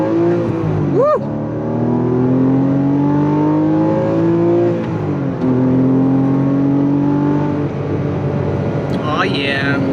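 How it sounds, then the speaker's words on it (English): A 2014 Porsche 981 sports car engine pulls strongly while driving, its steady rising tone climbing through the gears with a brief shift dip midway, loud and close, with a short whoop of voice near the end. "I think I'm gonna take it around the block and see what happens when I drive it for a few minutes."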